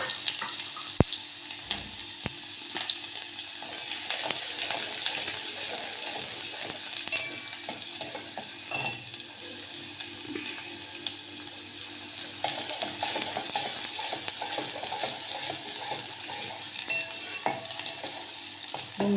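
Onions frying in oil with cinnamon, cloves, pepper, star anise and bay leaf, a steady crackling sizzle with occasional sharp clinks and stirring knocks over a faint background hum, no talking.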